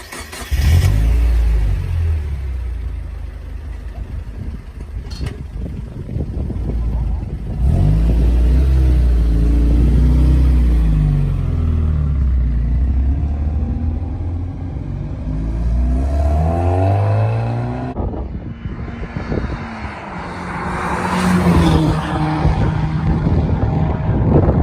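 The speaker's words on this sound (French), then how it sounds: "c'est de nouveau travers assez banal avec la Miata" A Mazda Miata MX-5 driven sideways on a track, its engine revving hard with rising and falling pitch sweeps as gears change, loud and close over a long continuous stretch, no talking.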